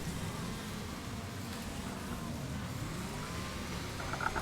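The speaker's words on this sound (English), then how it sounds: "it's got like a supercharger and you can hear it winding up" A supercharged car in a racing video game, its engine roar and rising supercharger whine continuous and fairly loud, with a brief tire squeal near the end.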